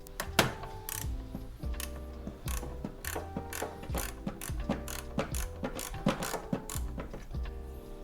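A 10 mm ratchet works bolts loose on a 10th-gen Honda Civic Type R, a close, rapid series of clicking pawl strokes with small metallic knocks between them, repeated steadily throughout.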